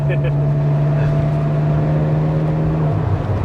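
Ferrari 360 Spider (2001) engine idling steadily through a loud aftermarket exhaust, a constant deep drone with a small dip near the end, close and continuous with no talk over it.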